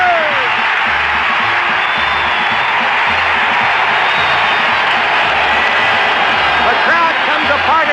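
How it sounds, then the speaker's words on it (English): A packed football stadium roars after a 1974 Oakland Raiders touchdown pass, a loud, sustained wall of cheering and whooping heard up close under an announcer's voice. "The crowd comes apart at the seams as Charlie Smith catches one from 32 yards down the middle."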